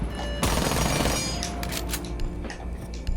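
SMG-11 fire in Rainbow Six Siege: a rapid, loud automatic burst rattling continuously, followed by a few scattered sharper shots and clatter.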